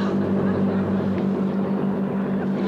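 A motorboat engine drones steadily at close range, a constant low hum with no break for the whole stretch.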